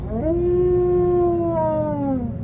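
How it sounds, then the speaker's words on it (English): A dogman creature in a horror story gives a single long, mournful howl that rises, holds steady and slowly falls away, loud and close over a low, rumbling background. "She lets out a howl."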